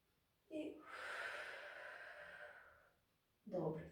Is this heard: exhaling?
yes